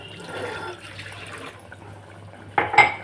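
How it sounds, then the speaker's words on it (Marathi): Hot water with turmeric, left from steaming the sprouts, poured into an usal curry in the pan, a soft running splash giving way to a louder burst of liquid near the end. "आता आपलं हे उसळीचं पाणी टाकून घेऊ."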